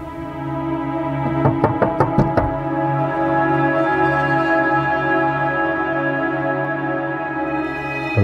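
Knocking on a door in a quick burst of about five raps, close and sharp, over a sustained tonal music bed.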